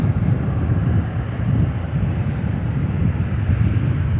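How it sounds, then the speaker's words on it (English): A United Boeing 787-10 airliner arriving from Brussels roars steadily on its landing approach at Chicago O'Hare, a loud, broad engine rumble with wind buffeting across the microphone throughout. "787-10 before she will be touching down"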